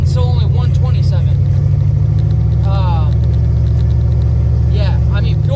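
A car engine rumbles loud and steady from inside the cabin while driving, a deep constant drone with a voice talking over it.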